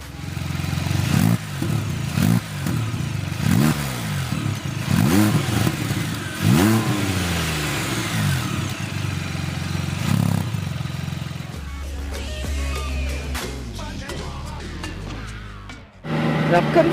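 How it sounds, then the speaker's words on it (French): Can-Am Spyder F3 with a liquid-cooled 1330 cc three-cylinder engine, revving loud and close with repeated rising and falling sweeps, then settling into a steadier drone before a final burst. "Ce Can-Am embarque le 3 cylindres de 1330 cm3 à refroidissement liquide"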